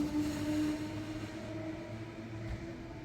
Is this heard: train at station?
yes